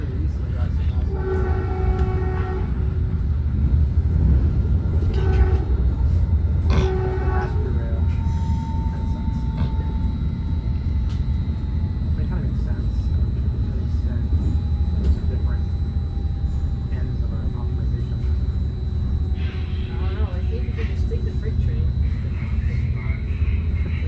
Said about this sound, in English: That's the last northbound express train of the evening rush hour